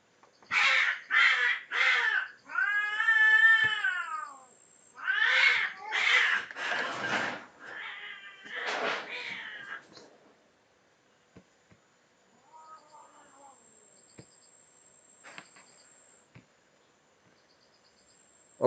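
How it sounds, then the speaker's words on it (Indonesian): A cat meows loudly and close by in a quick run of calls, some short and some drawn out and wavering, then goes quiet apart from a softer, fainter call later on. "Tadi ada gangguan kucing."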